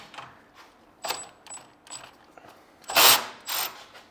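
Ratchet loosening two bolts on the cooling module of a Tesla Model Y during a DIY radiator cleaning, heard as a few short metallic clicking bursts with brief pauses, growing louder and denser near the end.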